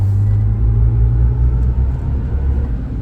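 Artificial digital driving sound from a 2024 Chevy Silverado EV Work Truck while turning, a steady low hum and rumble held at an even level throughout, with no talk over it.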